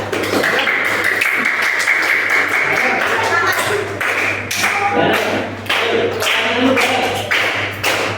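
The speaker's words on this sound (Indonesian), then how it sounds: "Ya, tepuk tangan dulu." A school class applauds with a burst of scattered, overlapping hand claps and taps over several seconds, mixed with voices in the room.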